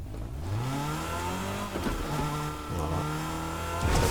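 A car in the Fortnite video game revs and pulls away with rising engine tones, gear-like pitch steps and a brief skid near the end, loud and close with no talk.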